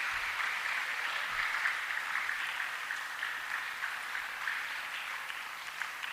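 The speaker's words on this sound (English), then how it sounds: "So give a loud applause to Jasmine ma'am." A school audience at a Talent Day closing session applauds a teacher, with soft, fairly distant, continuous clapping that keeps an even level throughout.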